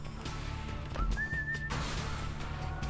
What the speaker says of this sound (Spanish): ¿Un silbato? A store whistle. Spawn a shop chest nearby.